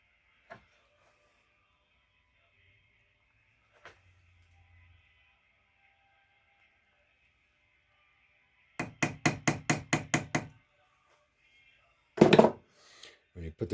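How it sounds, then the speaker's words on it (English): A jewelry-making hammer strikes metal to flatten a crease, landing as a fast run of about eight sharp taps, then a heavier cluster of blows later, close and clear in an otherwise quiet room. "take your hammer and hit it once, just to flatten it back out"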